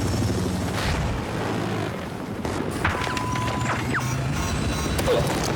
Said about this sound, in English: Helicopter being taken down there,